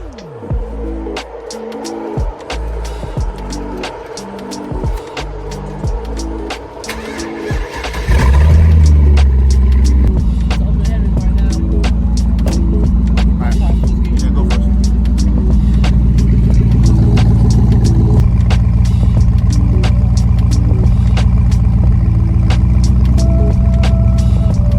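A Cadillac CTS-V engine being started in a shop after a driveshaft install: tools clatter and rattle first, then the engine fires around eight seconds in and settles into a loud, steady, deep idle rumble with light revving.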